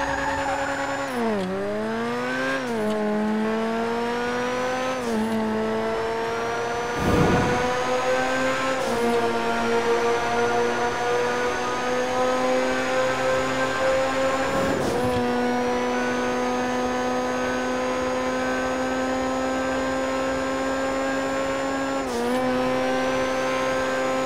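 A heavy Felter car in GTA 5 growls through a long high-pitched run of engine revs, climbing and dropping with each gear change, loud and close with brief tire squeals.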